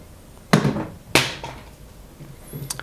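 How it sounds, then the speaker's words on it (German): Cat knocking things off a shelf indoors: two sharp, close thuds about half a second apart, followed by lighter rattling and small clatters as objects settle. "Katze räumt wieder Sachen raus."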